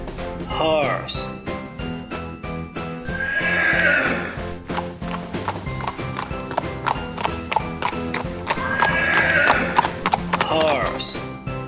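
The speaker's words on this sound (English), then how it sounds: "horse," Horse on a farm giving two loud, drawn-out whinnies several seconds apart, with steady clip-clopping hooves and background music underneath throughout.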